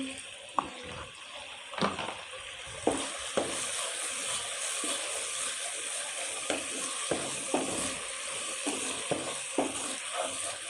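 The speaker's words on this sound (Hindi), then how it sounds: "इसके बस 2-3 मिनट भुनाई करनी है अच्छे से" Chicken liver (kaleji) roasting in a pan with spices, a steady sizzle and frying hiss throughout, broken by regular soft scrapes and clicks of stirring, close and moderately loud with no talk.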